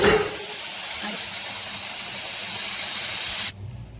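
Water splashed into a hot pan of radish-pod vegetable mixed with roasted peanut powder bursts into a loud, steady steam hiss that lasts about three and a half seconds and then cuts off abruptly.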